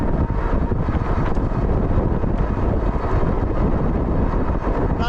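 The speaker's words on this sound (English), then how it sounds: "Pretty good headwind going on too." Steady, loud wind roar buffets the microphone while riding an AMYET S8 all-wheel-drive e-bike with dual 1000W motors into a headwind, a continuous broadband rush with no breaks and no talking.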